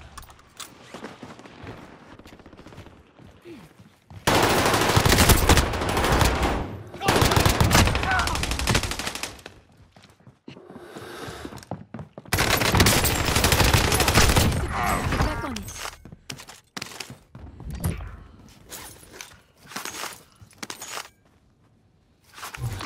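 Bursts of rapid automatic gunfire and overlapping shots in a video game come in loud, dense stretches separated by quieter gaps with footsteps and gear rustle, with brief talk in between.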